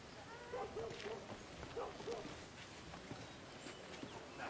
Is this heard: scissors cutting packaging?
no